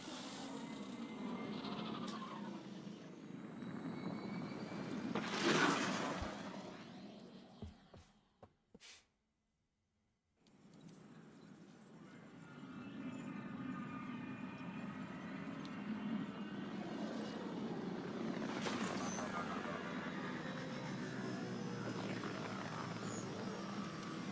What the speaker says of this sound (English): Good landing, Callow.